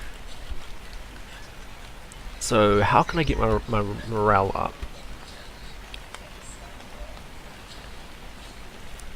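Steady rain falls in the video game Cataclysm: DDA, a soft continuous hiss of drops running beneath a man's brief speech and continuing on its own afterward.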